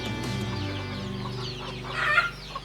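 Chickens cluck nearby in a farmyard in the Philippine countryside, short overlapping clucks over a steady background hum, rising into a brief louder burst near the end.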